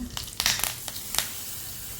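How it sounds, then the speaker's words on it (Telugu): Tempering (tadka) sputters in hot oil for coconut chutney, giving faint, close crackling pops in a few sharp bursts over a soft steady sizzle, with no talking. "వీడియో చేస్తున్నాను కాబట్టి తాలింపు కూడా వేసాను"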